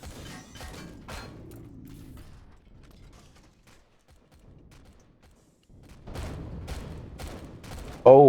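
Gunfire in a video game base battle: scattered bursts of shots early, a quiet stretch, then renewed rapid firing and a loud burst at the end, with little else around it.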